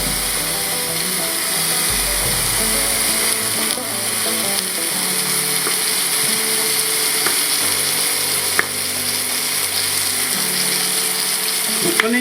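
Beef shank and carrots fry in a tall pot, a loud continuous sizzle with occasional scrapes and clatters of stirring, no one speaking.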